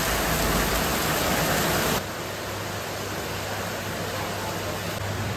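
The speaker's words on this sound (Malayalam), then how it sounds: "ഭയങ്കര മഴ അല്ലേ?" Heavy rain pours down steadily, a dense, even hiss of falling water that continues without a break, moderately loud and with no talking.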